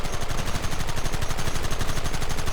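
Gunfire in Red Dead Redemption, a loud rapid volley of many overlapping shots in a fast, continuous rhythm throughout, with no talk.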